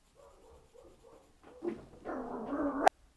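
Dogs whimpering and whining close by, a few soft whines building into a louder, sustained whimpering stretch that cuts off abruptly, with no talking.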